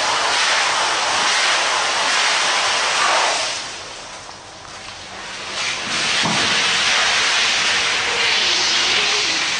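Water sprays hard from a just-opened fire hose nozzle during hose handling, a loud, steady broadband hiss that briefly dips and returns, with no talk.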